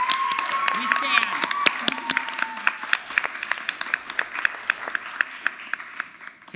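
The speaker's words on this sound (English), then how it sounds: "let's give them a round of applause for these people" An audience at the Mr. UVU 2020 pageant show claps in a steady round of applause that starts over someone speaking and continues after his voice stops, the claps crisp and moderately close.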